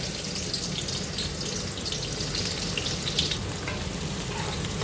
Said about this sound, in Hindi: अब ऑयल गर्म हो गया है, इसमें प्याज शामिल करेंगे।